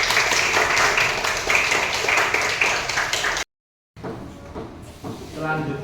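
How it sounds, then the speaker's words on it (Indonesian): An audience claps together, a dense run of applause that cuts off abruptly, followed after a short gap by a quieter room with a voice speaking. "Tepuk tangan untuk kita semua."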